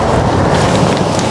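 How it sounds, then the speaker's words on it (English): Cold, gusty wind at an EV fast-charging station on a snowy winter road trip, roaring close to the microphone as a steady, loud, buffeting rumble with no talk over it. "Oh, it is cold and windy."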